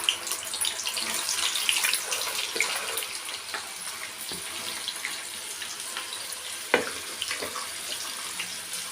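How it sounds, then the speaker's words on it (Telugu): Evening snacks of pithiki pappula and peanuts frying in hot oil, a steady bright hiss and sizzle with scattered crackles and a sharper pop near the end. "కాస్త వేగనిద్దాం దీన్ని"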